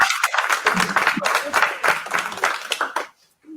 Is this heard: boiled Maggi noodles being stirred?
no